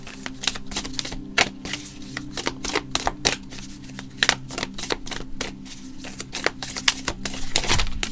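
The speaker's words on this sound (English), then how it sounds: "I'm shuffling them extra loosely so that they have a better chance of falling" Tarot cards shuffled loosely by hand, giving a steady run of crisp, papery slaps and riffles at an uneven rhythm, close and clear over a low constant hum, with no voices.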